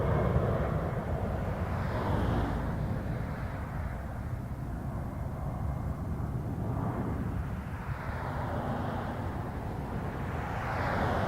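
An Air Canada jet in an all-black livery roars at Toronto Pearson airport, a broad steady engine rumble with slowly shifting tone that stays moderately loud and distant for about eleven seconds.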